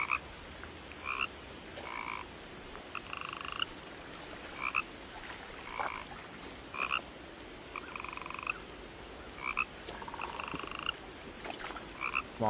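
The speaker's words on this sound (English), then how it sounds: "There's a frog." A frog croaks repeatedly in the video game What Remains of Edith Finch, paired rhythmic croaks recurring every second or two over a quiet outdoor ambience with no talking.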